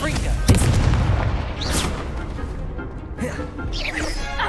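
In Hogwarts Legacy, a Confringo spell sets off a fiery blast: a sharp crash followed by booming impacts and whooshing effects, loud and close, with game voices shouting over it.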